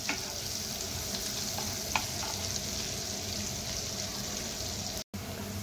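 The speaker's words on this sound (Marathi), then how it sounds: "आपल्याला व्यवस्थित फ्राय करून घ्यायचं आहे लसूण।" Eight to ten chopped garlic cloves frying in melted butter, a dense, even sizzle that holds steady close by, with a couple of faint utensil taps and a brief drop-out near the end.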